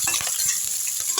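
Onion, green chili and garlic sauté in hot oil in a pan, giving a steady close sizzle with soft spoon scrapes and stirring taps throughout.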